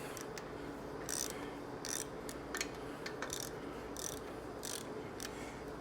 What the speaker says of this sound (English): Now we'll loosen our pinch bolts up.